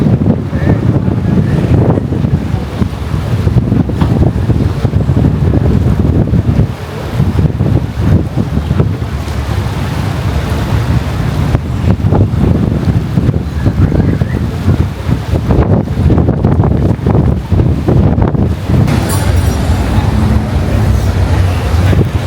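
Strong wind roars and buffets the microphone continuously, with water sloshing and a faint engine rumble underneath, loud and unbroken throughout.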